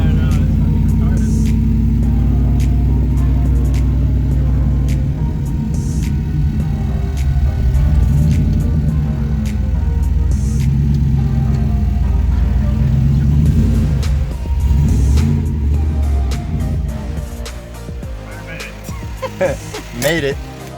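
A turbocharged 4.6L Ford Mustang engine drones loudly and steadily while driving, with rising and falling revs, and voices talk over it throughout.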